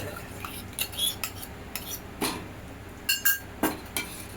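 Spoon stirring warm milk with curd in a metal vessel, a series of close, irregular clinks and scrapes against the sides over a quiet background.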